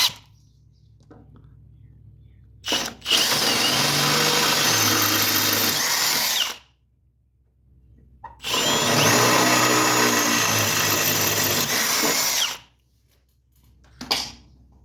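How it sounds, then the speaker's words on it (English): A power drill bores larger holes after 7/32 pilot holes while a winch is being mounted on a mower, in two loud, close bursts of steady whirring, each lasting about four seconds, with quiet gaps between them. "Now that our pilot holes are drilled, I just use the 7/32 as our pilot holes. We're going to come in here and take the big bite."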